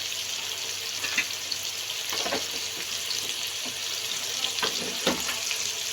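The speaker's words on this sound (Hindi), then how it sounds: "अच्छी तरह से इसको भूनेंगे।" Spices frying with potato, pea and carrot in a pan, a steady moderate sizzling hiss broken by occasional soft stirring scrapes.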